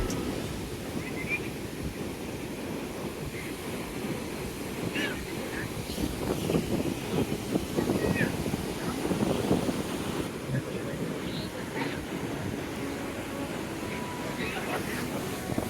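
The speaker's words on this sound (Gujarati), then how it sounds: "અહીંયા કેટલો ઠંડો પવન આવી રહ્યો છે" Cold wind gusts buffet the microphone with a low, rumbling roar on Puri beach, Odisha, while surf washes faintly in the background.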